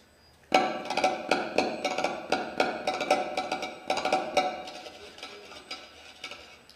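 A homemade tin can instrument called a latafón, shaken like a maraca, rattles and clanks in quick, fairly regular bursts, a bright metallic shaking close by that gradually softens toward the end.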